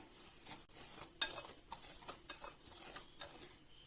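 Quiet, rhythmic clinks and scrapes of a spoon working through a flour mixture in a bowl, close and soft.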